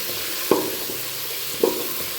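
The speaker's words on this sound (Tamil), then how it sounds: "ஸோ 2 தக்காளி போட்டுட்டு நல்லா வதக்கிடுங்க" Two chopped tomatoes sautéed in a pan for chicken biryani, a steady low sizzle with two brief spoon-stirring knocks, close and alone without talk.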